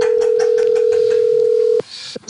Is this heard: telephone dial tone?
yes